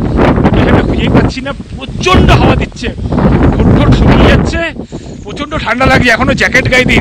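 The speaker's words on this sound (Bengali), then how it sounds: "প্রচণ্ড হাওয়া দিচ্ছে।" Strong, gusting wind buffets the microphone outdoors near Sittong in the Darjeeling hills, a rough roar that rises and falls beneath near, continuous talking.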